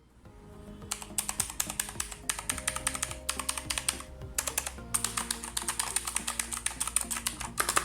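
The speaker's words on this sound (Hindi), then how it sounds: "आइए इसकी टाइपिंग साउंड सुनते हैं।" Fast, steady typing on a Cosmic Byte CBGK 12 mechanical keyboard with blue switches, a dense run of crisp clicky keystrokes close up, pausing briefly a few times and continuing without any voices.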